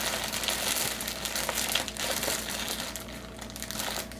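A plastic bread bag crinkles as its loose end is folded back, a close, continuous rustling and crackling that runs for a few seconds without speech.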